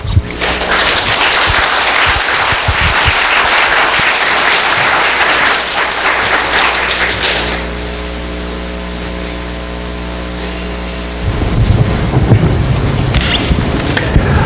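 A church congregation applauds as the pastor comes forward, a loud, dense wash of clapping for about seven seconds that thins into a quieter, steadier room tone before a brief burst of noise near the end.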